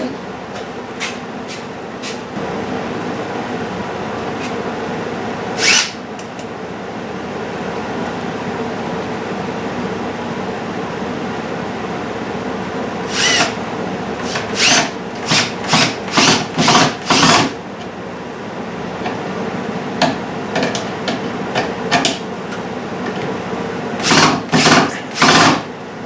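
A drill bit sharpener grinds in short, repeated bursts, each a few seconds long with pauses between, over a steady low background hum.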